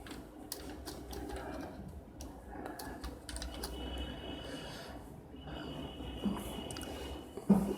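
Someone typing a short word on a computer keyboard while working in Photoshop, with light, close key clicks in scattered irregular bursts over a quiet background hum.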